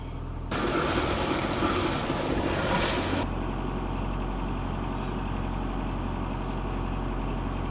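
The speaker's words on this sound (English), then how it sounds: "With zero wind and the engine droning away over flat seas" A sailing boat's engine drones at sea over flat water in calm conditions, a steady low hum joined by a loud rushing wash for a few seconds before settling back to the even drone.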